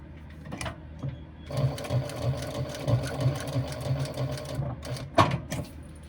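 A sewing machine stitches a small fabric tab for a pleated bag, its steady rapid chatter running loud and close for about four seconds before a sharp handling clatter near the end.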